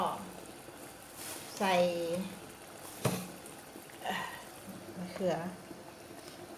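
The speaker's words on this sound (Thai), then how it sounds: "พอแกงเดือดแล้ว" Chicken curry with eggplant simmers in a pot, giving a soft bubbling and sputtering that sits under a person talking close by.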